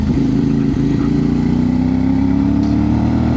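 A motorcycle ridden along a winding mountain road near the Khewra salt mine area of Pakistan, its engine droning loud and steady up close with a slowly rising pitch as it pulls through sharp turns.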